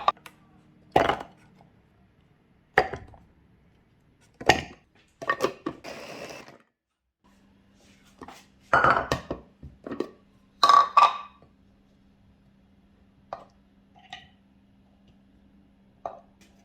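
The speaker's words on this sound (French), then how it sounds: "Je vais mixer les oignons." A blender chops onions in short pulses: several brief whirring bursts separated by quiet pauses, with a low steady hum underneath in the later part.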